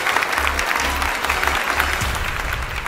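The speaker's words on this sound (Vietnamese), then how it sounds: "vỗ tay cho Lê Vũ Đa" Studio audience applauding for contestant Lê Vũ Đa on a comedy game show, steady broadband clapping filling the short stretch at moderate loudness with a low hum beneath and no clear talk.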